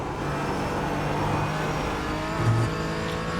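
Race car engine in a racing video game, a steady, moderately loud engine drone holding a constant pitch with a slight rise near the end, no talk.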